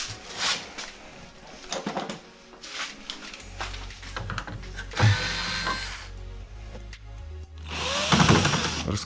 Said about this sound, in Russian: Раскручиваем саморезы вот эти, снимаем крышку.